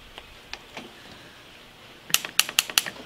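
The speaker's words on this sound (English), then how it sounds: "Okay, solenoid works." An air solenoid on an Adcock Shipley horizontal mill fires in a quick burst of sharp, loud mechanical clacks, about six snapping hits in rapid succession after a quiet stretch with faint ticks.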